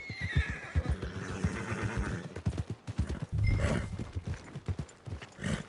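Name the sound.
horse neighing near stables in a video game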